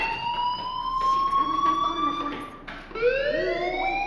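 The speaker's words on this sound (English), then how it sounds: "do you hear that fire alarm? That means you should be outside." A synthetic electronic fire alarm wails with rising and falling tones, pausing briefly before starting again, loud and continuous.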